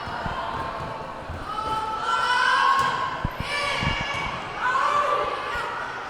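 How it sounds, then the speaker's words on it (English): Spectators at a high school girls varsity volleyball match in a gym cheer and shout in two loud swells, with thuds of the ball and a commentator's voice over the crowd noise. "Crowd definitely into this match."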